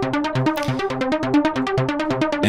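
A Sylenth1 trance lead arpeggio with a noise oscillator pulses in rapid even steps, bright plucky synth notes cycling through a repeating pattern with a faint hiss layered in.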